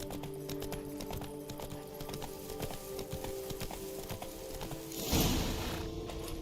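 Hoofbeats of Roach, a horse in the game The Witcher 3: Wild Hunt, clip-clopping steadily over game music, with a brief louder burst of noise near the end.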